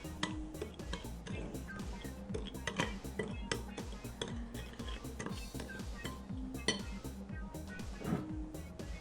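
A utensil scrapes and clinks rapidly against a shallow bowl as cinnamon and granulated sugar are stirred together, a busy, irregular run of small ticks and taps up close with a faint background hum.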